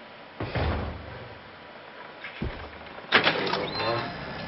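Door handled in the horror video game Outlast: a creak and thud early, a softer knock, then a louder clattering bang near the end, with some background speech.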